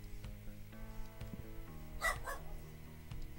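A puppy gives a short yip or bark, faint and brief, over a steady background of music and game sound.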